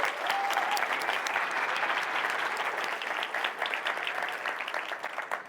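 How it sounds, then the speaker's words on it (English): Expo audience gives a round of applause for sponsors, a full crowd of clapping that holds steady and then thins toward the end, moderately quiet. "Can we give a round of applause to CyberPower and to Amazon for their help?"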